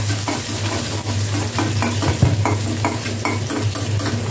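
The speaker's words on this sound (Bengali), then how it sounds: "আমি রসুন আর পেঁয়াজ দিয়ে বাগার দিচ্ছি," Garlic, onion and whole cumin temper in hot oil with a close, busy sizzle, broken by regular scraping strokes of a spoon stirring in the pan.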